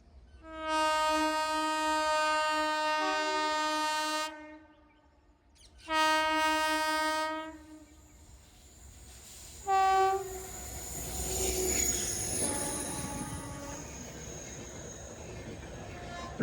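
A WAP7 electric locomotive hauling an express train blasts its horn loudly in two long tones and a short toot at Bengaluru Airport station, followed by the rumble of the passing train.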